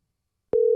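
A single steady telephone tone starts abruptly after a half-second of silence and holds loud and clean while a phone call is being placed, with no talking.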